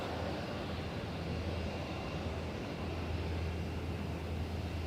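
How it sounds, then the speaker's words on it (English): An Alliance Airlines Fokker F100 jet taxis at Perth airport, giving a steady, continuous low engine rumble with broadband roar that stays at an even level throughout, with no talking. "Alliance, they're just taxiing out as well with the F100."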